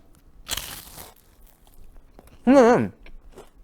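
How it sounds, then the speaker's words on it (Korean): Two crisp crunches of a brittle Korean hangwa rice snack being bitten, close up, separated by a short pause in an otherwise quiet setting. "지금 소리가 보이실 겁니다. 굉장히 바삭한 맛이 딱 느껴지지 않겠습니까?"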